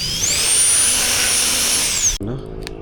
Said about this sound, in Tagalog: Gamit ko na ng barena.